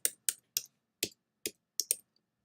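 Seven crisp keystrokes on a computer keyboard come close and clear in an uneven rhythm, with two rapid presses near the end, and nothing but silence between them.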